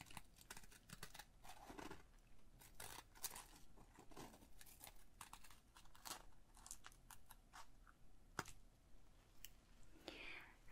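Scissors snip through paper for Chinese paper cutting in close, quiet, intimate strokes, a run of crisp irregular cuts and rustles.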